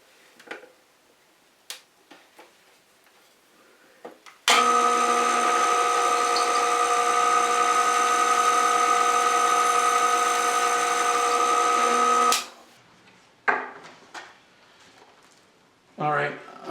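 Power drill boring into a wooden hutch cabinet door, one steady high whine lasting about eight seconds, close and loud, with clicks and handling noises before and after.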